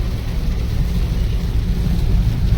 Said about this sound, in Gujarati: આ રાજસ્થાનના અંદર વરસાદ ચાલુ છે.